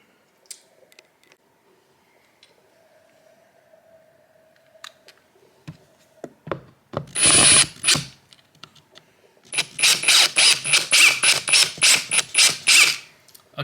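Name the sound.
power drill driving a 5-inch screw during window install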